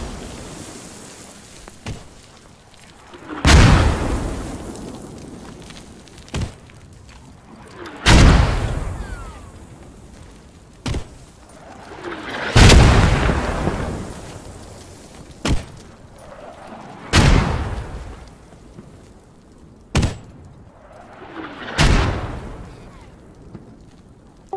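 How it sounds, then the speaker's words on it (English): Mortar shells in the WWII shooter Post Scriptum land as a series of heavy booming explosions, about nine blasts spaced a few seconds apart, some near and loud, others duller and farther, each with a rumbling tail. "Mortars are getting dialed in."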